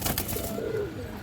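Pigeons of a trusted breeding line, including silver birds, coo softly at close range, a low throaty warble over a dense background hum.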